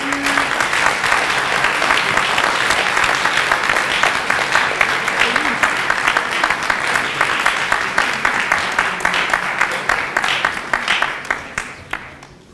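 Sustained audience applause at a debate competition final, dense and loud, with a crowd clapping steadily before thinning out and fading to a few scattered claps at the end.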